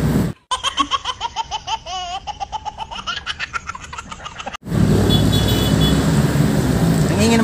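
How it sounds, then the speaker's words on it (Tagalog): Jeepney traffic on a busy road gives a steady, loud roar of engines and passing vehicles over the last few seconds, after a long stretch of close, bouncy laughter from voices. "Ang ingay ng mga jeep."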